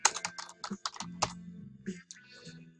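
Quick bursts of keystrokes on a computer keyboard, close and crisp, clattering in an irregular rhythm with brief pauses and no talk.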